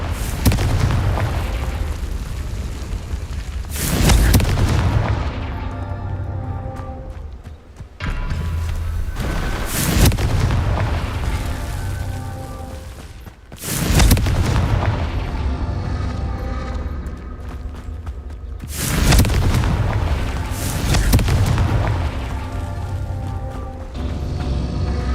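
Confringo fire spell explosions in Hogwarts Legacy, a series of heavy booming blasts about every five seconds, each a sudden loud burst fading into a rumbling tail, with a continuous game soundscape underneath.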